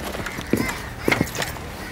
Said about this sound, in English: Your horse, Commander.